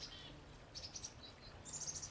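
Black-capped chickadee alarm calls in a backyard, with several thin, high chirps in short bursts, fairly faint and at a distance over quiet outdoor background.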